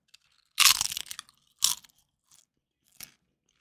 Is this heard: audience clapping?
no